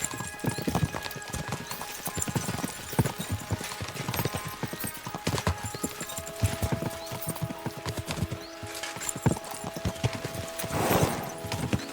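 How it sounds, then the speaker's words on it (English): Horses gallop in the Kingdom Come: Deliverance II video game, a dense, rapid clatter of hooves running continuously for the whole stretch, with a brief whinny near the end. "We should spur the horses on."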